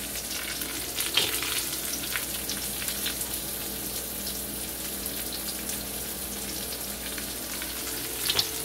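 Shallots, garlic and carrots fry in a pan over lowered heat, giving a steady, close sizzle with occasional stirring crackles and no voice over it.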